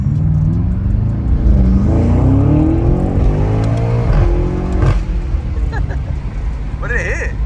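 A sport-mode car's engine roars as it launches hard and climbs through the revs into second gear, loud and close inside the cabin, with several people talking excitedly over it.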